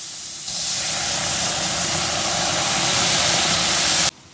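Eggplant frying in a pan with butter and water bursts into a loud, close, steady hiss of steam after a quieter start, then cuts off abruptly.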